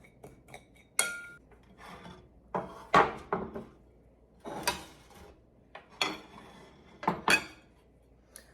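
Ingredients are stirred together in a bowl for a cauliflower steak dish, with scattered scraping and clinking strokes, some sharper than others, in irregular bursts over a quiet background.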